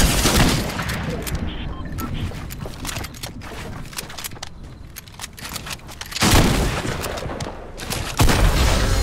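Loud Fortnite gunfire, including sniper rifle shots landing headshots, rings out as sharp repeated cracks over a dense, busy game soundscape with a heavy burst near the end.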